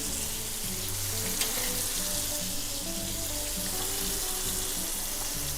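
Lamb sears in a hot pan with a steady, dense sizzle and frying crackle throughout, loud and close, with no talking.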